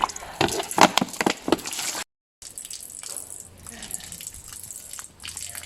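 Water runs and drips out of a Volkswagen Jetta side mirror housing through a small drilled drain hole during a test, with splashing and trickling close by, interrupted by a brief gap, then a softer steady flow.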